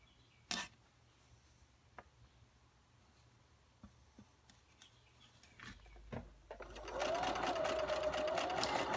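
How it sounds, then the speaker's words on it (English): A sewing machine stitching quilt squares and strips together in an RV starts up late, running as a steady close whir after a few scattered clicks and handling noises. "While you're sewing your squares and strips together"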